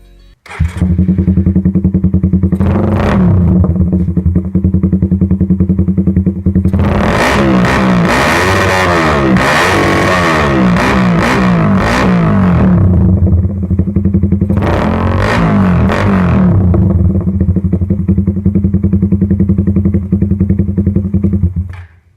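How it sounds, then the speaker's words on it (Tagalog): A Suzuki Raider motorcycle with a Daengsai4 open pipe exhaust idles loudly up close. It cracks into several sharp revs and one long sustained throttle blip over a constant raspy burble. "So testingin na natin kung gaano nga ba kalakas yung daing na to."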